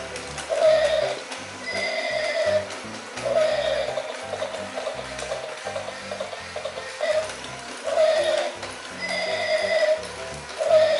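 A Barbie Cinderella toy horse carriage plays electronic horse neighs and whinnies over a looping clip-clop hoofbeat rhythm, repeating in short phrases at moderate volume with no talking.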